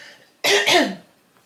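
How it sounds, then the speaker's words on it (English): A single harsh cough, loud and close, with a brief throat-clearing quality, then quiet. "I'm just gonna have a cough"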